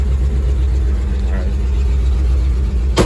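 An International truck's engine idles with a steady low rumble while the truck is shifted and moved, with a brief sharper burst near the end.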